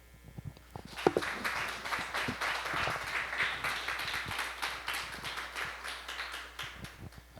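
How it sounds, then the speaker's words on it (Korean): A church youth congregation applauds at a Sunday worship service, steady dense clapping filling the room for several seconds after a few scattered early claps, moderately loud and without talk. "나오실 때 큰 박수 부탁드리겠습니다."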